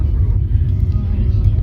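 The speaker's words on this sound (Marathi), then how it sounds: "आता गाडी चालवतोय" A car is driven on a road trip to a beach, with a steady, loud low rumble of engine and road noise heard from inside the vehicle throughout.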